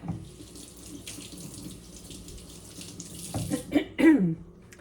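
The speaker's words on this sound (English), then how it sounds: "I got it all over my hand. So I gotta wash my hand." Hands washed under a running kitchen tap to rinse off sugar-free chocolate syrup, a steady moderate stream of water splashing, with brief louder splashes and rubbing near the end.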